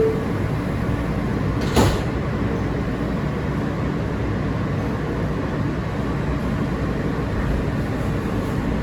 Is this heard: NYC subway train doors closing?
yes